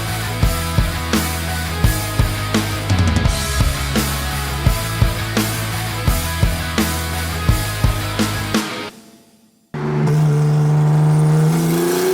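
A big-turbo BMW 335i pulls hard, engine note climbing in repeated rising sweeps as it shifts up, each gear change marked by a brief dip, then cutting off abruptly before a steady loud drone resumes.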